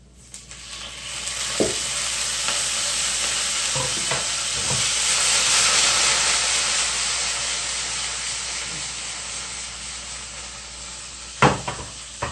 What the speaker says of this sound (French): vous allez rajouter donc 1 cuillère à soupe de soja.